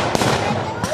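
A deactivated rifle firing blank cartridges at a historical battle reenactment gives two sharp, loud cracks about a second apart, with voices underneath.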